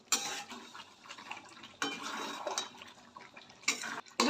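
Mutton for kosha mangsho is stirred and fried in a pot, with bursts of scraping and wet sizzling separated by quieter pauses, fairly close.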